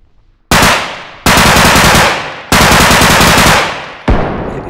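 Four loud automatic gun bursts fired in the video game Bodycam, each starting sharply and decaying over about a second, with short gaps between them and no voices.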